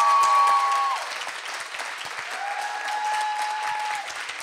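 Audience applause at the Bankstown Poetry Slam, a steady, full-room clapping that stays loud throughout, with a few whoops or whistles rising above it near the start and again later.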